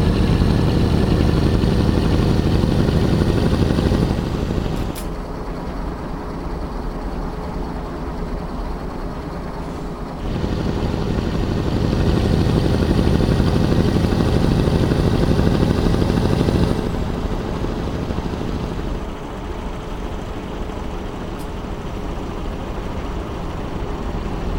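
A Mercedes truck engine with an open pipe exhaust mod in Euro Truck Simulator 2 drones loud and deep, with throttle rising and falling between heavier and lighter passages, running alone without talk.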